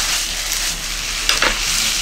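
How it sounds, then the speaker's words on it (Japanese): Bulgogi beef in a miso and sugar marinade stir-fries over high heat, giving a continuous bright sizzle with a brief scraping clatter as the meat is stirred, close and alone. "最初は広げて焼いていく感じで大丈夫。"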